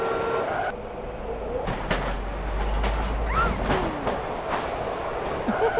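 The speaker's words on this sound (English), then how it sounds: "Instead of flying back home, he took the subway instead." A subway train ride in a video game rumbles along with clattering wheels and a rising squeal, with electronic tones at the start and end, no voices.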